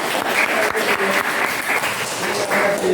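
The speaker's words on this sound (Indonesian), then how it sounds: "tepuk tangan untuk kelompok 3." Classroom applause for a student group presenting in a seventh-grade junior high class: steady, dense clapping from many pupils fills the whole stretch, close and fairly loud, with a few voices mixed in.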